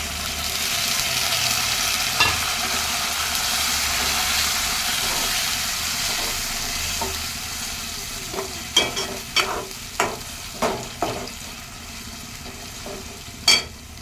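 Soaked chana dal and onions frying in a pan for an Andhra-style brinjal, chana dal and tomato curry, with a steady hiss of sizzling oil and several sharp scraping stirs of a spoon toward the end.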